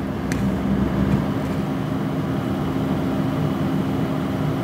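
Valkyrie Vind SL125 CPU cooler fan spinning at half speed, a steady, low, broadband whir with a faint hum, continuous and even throughout with no talking.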